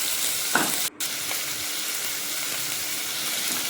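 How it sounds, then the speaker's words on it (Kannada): Chopped onions, cumin and green chillies frying in a pan for egg puff filling, a steady close sizzle with a brief stir sound near the start and a momentary dip, no talk. "ಒಂದು 3ರಿಂದ 4 ಹಸಿಮೆಣಸಿನ್ಕಾಯಿ ಇದೆಲ್ಲ ನೀಟಾಗಿ ಇವಾಗ ಫ್ರೈ ಮಾಡ್ಕೋಬೇಕು"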